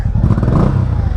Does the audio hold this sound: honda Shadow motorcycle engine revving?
yes